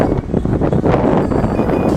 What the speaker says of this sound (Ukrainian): Ой, боже, вітер. Якийсь тут ураган.